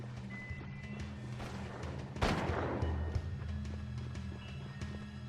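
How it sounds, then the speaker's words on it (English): Gunfire in the video game Jak 3: a burst of shots and a heavy blast near the middle, followed by scattered lighter shots and clicks over a low droning game background. "She's still shooting at me?"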